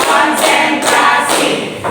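Hand clapping in a concentration clap game, a few loud close rhythmic claps in a steady pattern, each clap a sharp thud-like burst, with faint voices behind.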